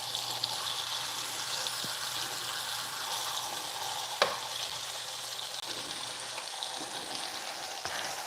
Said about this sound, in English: We still have to go fry some more.